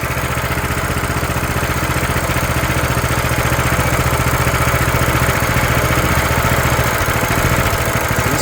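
A brand-new Coleman CT200U Realtree minibike with a Hisun engine idles cold with the choke partly on, a loud, steady close-up putter that runs unbroken and alone.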